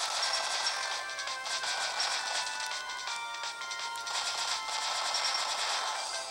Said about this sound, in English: The bubble line's like a machine gun, I guess. It has rapid fire.